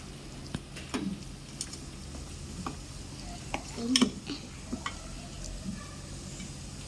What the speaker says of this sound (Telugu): సాల్ట్ వేసింది, ఇప్పుడు కలుపుతుంది చూడండి